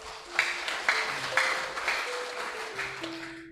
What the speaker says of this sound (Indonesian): Beri aplaus dulu untuk jemaat Keramat ini